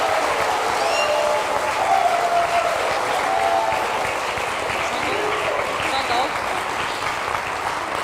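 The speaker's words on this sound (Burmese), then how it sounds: "ပရိသတ်များလက်ခုပ်တီးပြီးတော့ရှင်းရောက်ကြကြပါ" Wedding guests clap steadily through a ring exchange ceremony, a broad wash of applause with faint voices and a dog barking under it.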